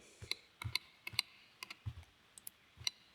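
Computer keys and a mouse click at close range while someone works in Blender. The clicks come as sharp, irregular taps, sometimes paired, with quiet pauses between them and no talk.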